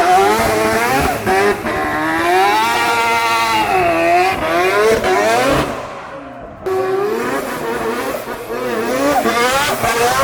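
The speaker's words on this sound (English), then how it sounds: "I think that's Mad Mike getting ready for his drift demo run." A Mazda race car engine at Fuji Speedway during the Mazda Fan Festa, readied for a drift demonstration, revs loudly and repeatedly up and down, with a brief drop-off midway before climbing again, close and dominant.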